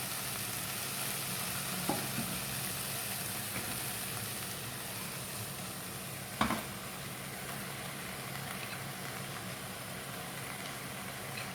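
Tomatoes cooking in a pan for bread pakora give a steady, soft sizzle and hiss that runs throughout, with a couple of brief clinks of a utensil against the pan.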